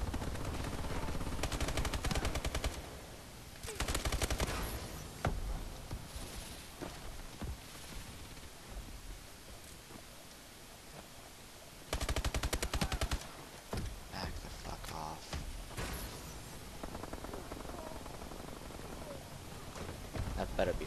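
Automatic sentry gun fire in an online shooter video game, loud bursts of rapid gunfire recurring in several stretches over ongoing battle noise, with players talking throughout.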